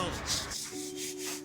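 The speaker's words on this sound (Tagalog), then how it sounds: "Liha siya, liha." Sandpaper scrapes back and forth in short, rough, rasping strokes, close and moderately loud, for just over a second.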